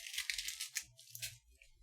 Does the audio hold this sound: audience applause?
no